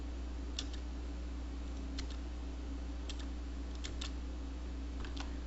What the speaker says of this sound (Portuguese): Prontinho, teclei Enter, né?